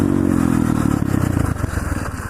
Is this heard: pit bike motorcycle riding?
yes